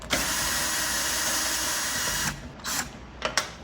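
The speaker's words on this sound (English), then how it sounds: "I'm gonna use a drill, but you can use a ratchet too." A power drill removing a bolt during a sliding door roller replacement on a 2005 Honda Odyssey whirs steadily for a couple of seconds, then stops, followed by a few short bursts as the trigger is pulsed.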